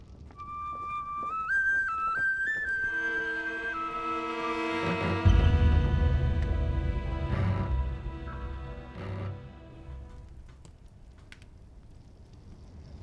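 A whistle plays a few clear, stepped tonal notes over a soft musical backdrop at the start of a short film scene, then fades as deeper sustained tones swell and the sound settles.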